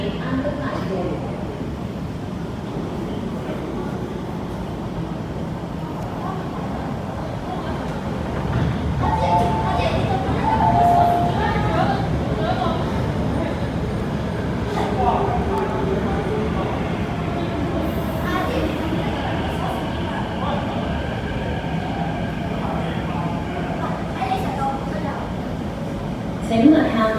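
An MTR subway train rumbles at the Kowloon Tong Station platform in Hong Kong, a steady close mechanical roar with brakes and hiss, while platform announcements and voices talk over it.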